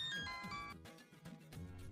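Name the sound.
phone ringing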